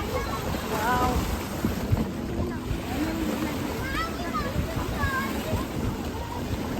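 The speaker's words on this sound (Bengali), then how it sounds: "এই যে এই আওয়াজটা যে কি ভাল লাগে যে পানিটা আসে" Lake water laps and splashes gently along the shore at Desenzano, Lake Garda, in a continuous wash, with people chattering and birds calling now and then.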